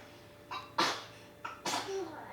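Two sharp sneezes about a second apart, close and fairly loud, each a sudden burst of breathy noise in a quiet room.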